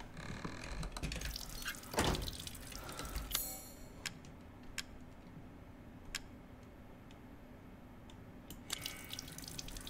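Water running from a tap in Resident Evil 8, a splashing gush near the start that fades into quiet dripping and scattered ticks and clicks, no speech.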